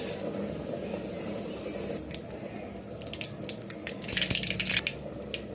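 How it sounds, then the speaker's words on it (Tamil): Mustard and fennel seeds fry in hot oil for tempering at the start of a simple chicken thokku, with faint crackles that build into a short burst of popping and spattering near the end over a low steady sizzle. "கடுகு சோம்பு போட்டு தாளிச்சிக்கலாம்"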